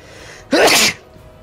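A single loud, close sneeze from a person during a late-night online raid session bursts out sharply and ends quickly, with no talk over it.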